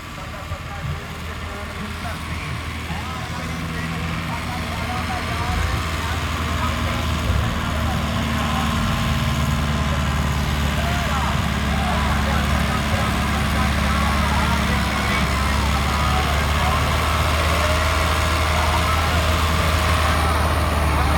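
A fully modified Plunger diesel tractor engine runs steadily at a village fair disc competition, a loud continuous low rumble and drone that carries through the crowd, with a voice talking over it.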